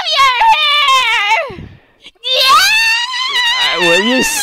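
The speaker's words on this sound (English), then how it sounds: "Will you stop screaming, please?" A baby girl screams loudly in long wailing bursts, with a short pause midway before the shrill screaming resumes, close and unbroken by other voices.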